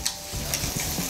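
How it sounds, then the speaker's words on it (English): Shrimp hitting a very hot pan, sizzling loudly with sharp pops and crackles in an uneven rhythm, close and with no one talking. "this is pop, pop, sizzle, sizzle, and a lot of flavor in this one pan itself"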